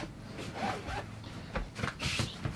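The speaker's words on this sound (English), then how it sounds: "Just unzip your bed and just drag it somewhere else." A zipper on a Sleep Number mattress is drawn open in several quick, close rasping pulls, with faint rustling of the fabric between strokes.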